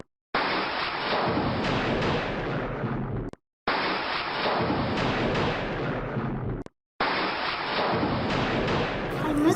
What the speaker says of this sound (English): Oh, it started rain. I have no umbrella.